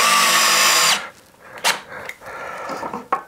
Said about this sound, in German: den Kreis, den schneide ich mir jetzt mit der Kreisschneidevorrichtung